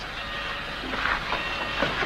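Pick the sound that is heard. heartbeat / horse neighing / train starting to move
train starting to move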